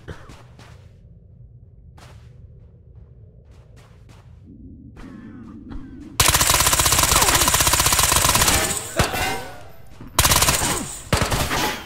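Automatic gunfire from an AK rifle in Ghosts of Tabor erupts in loud sustained bursts after several quieter clicks and thumps, with a brief pause between two long volleys.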